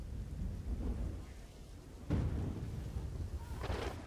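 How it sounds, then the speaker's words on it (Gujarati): Heavy monsoon rain pours steadily in Porbandar, Gujarat, a dense continuous hiss, with a loud rumble of thunder breaking in halfway through and rolling on beneath the downpour. "છેલ્લા 24 કલાકથી અવિરત વરસાદને કારણે 16 ઇંચથી ઉપર વરસાદ પડ્યો છે"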